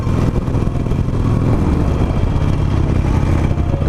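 A first-generation Harley Davidson Nightster motorcycle cruises along a bumpy secondary highway, its engine holding a loud, steady drone under strong wind rush.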